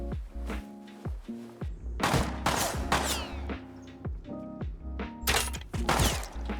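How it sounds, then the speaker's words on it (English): Gunfire from another player in the survival game Rust cracks out in several sharp bursts and short volleys, scattered across the clip with brief quiet gaps between them. No one speaks. "he just shoots at me a couple times and dips"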